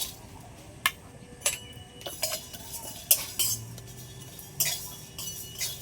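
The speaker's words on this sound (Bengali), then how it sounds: "শুকনো লঙ্কা, জিরে আর গোটা ধনে আর এলাচ, লবঙ্গ, দারচিনি, এগুলো সব খালি কড়াইতে ভেজে নেব।" Dried red chillies, cumin, whole coriander, cardamom, cloves and cinnamon dry-roasting in an empty wok for khichuri, stirred with a utensil that gives sharp, scattered metallic clinks and scrapes over a quiet background, with no talking.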